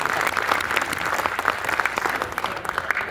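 An audience claps at a Rajasthani poetry gathering in Navi Mumbai: dense, sustained applause from many hands, fairly loud and even throughout, with no voices standing out.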